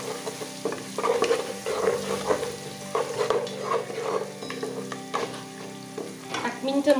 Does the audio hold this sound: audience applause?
no